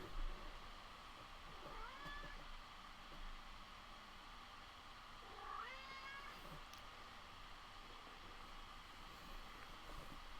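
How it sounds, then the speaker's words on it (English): A domestic cat meows and yowls indoors, with two drawn-out cries a few seconds apart. Both are faint over a steady background hiss, with no talking. "when the cat is yowling while you're trying to play that game"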